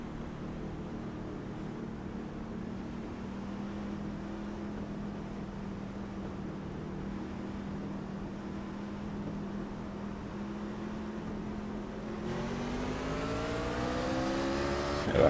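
Race trucks in an iRacing game of an MTR Truck Series race at Iowa drone steadily at low pace behind the pace car, then engines rev up together near the end as the restart begins; no talking.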